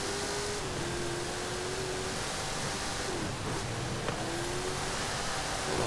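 A 2019 Hennessey Velociraptor 6x6 truck driving in Forza Horizon 5, its engine droning steadily with gear-shift pitch changes under a loud wash of wind and road noise.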